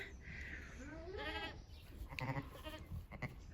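Ewes and newborn lambs bleating close by in a lambing barn, a few wavering calls overlapping one another against steady background noise.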